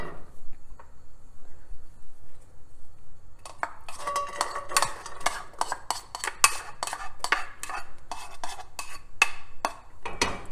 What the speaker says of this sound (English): once the oil has heated up a little bit, we're going to add our onion and garlic